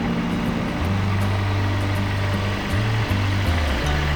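Tractor engine driving slowly down vineyard rows, a steady low drone with shifting pitch that runs throughout, close and continuous.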